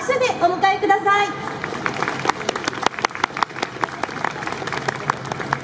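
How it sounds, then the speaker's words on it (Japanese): Sustained applause from a crowd at an outdoor festival concert greets a combined band of Tokyo elementary school students, dense crisp clapping that continues steadily. An announcer speaks over the opening second. "どうぞ拍手でお迎えください。"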